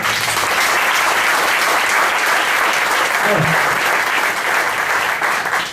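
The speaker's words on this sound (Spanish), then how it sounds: "¿Le da un aplauso al Señor?" A church congregation applauds in a loud, dense, continuous burst of clapping that holds steady throughout, with faint voices mixed in beneath.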